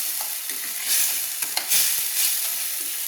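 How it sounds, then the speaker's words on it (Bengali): Spice masala for ghugni fries in hot oil, a constant close sizzle broken by a few louder scrapes and stirs of a spoon. "ততক্ষণ আমি মশলাটাকে কষিয়ে নিচ্ছি"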